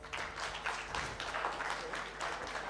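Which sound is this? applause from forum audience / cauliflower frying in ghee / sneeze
applause from forum audience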